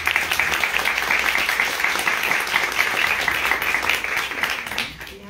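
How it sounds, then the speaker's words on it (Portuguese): Audience applause at a film festival debate: a large crowd claps in a sustained, dense roar with some whoops mixed in, then thins out and fades near the end. "Uma salva de palmas,"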